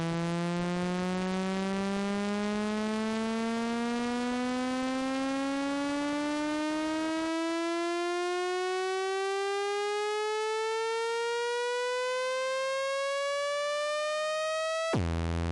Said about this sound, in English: let's try and create some more movement in this riser